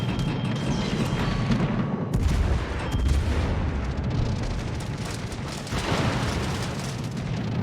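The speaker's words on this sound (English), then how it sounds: "you're dumping shells into the Lexington" In a naval battle video game, the cruiser Charles Martel pours shells into the aircraft carrier Lexington: continuous dense booming and rumbling gunfire, loud and unbroken, with no voices.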